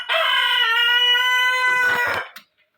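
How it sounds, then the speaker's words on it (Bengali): A Brahma chicken lets out a loud, sustained crowing call nearby, harmonic and steady, ending with a rougher squawk before falling silent. "আমার ব্রাহ্মা মুরগিগুলো একটু আওয়াজ করতেছে"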